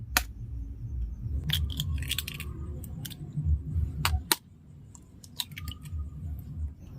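Two eggs are cracked into a mixing bowl for a semolina rasmalai pitha batter: several sharp, close taps and cracks, with soft wet shell sounds between them at a quiet kitchen level.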